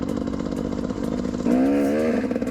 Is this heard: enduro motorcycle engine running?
yes